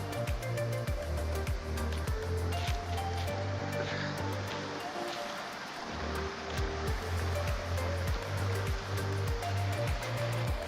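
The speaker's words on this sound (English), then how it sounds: "See the water flowing here." Rushing water from a waterfall on the climb to Tiger's Nest pours continuously and loudly, with a steady low hum running underneath the whole time.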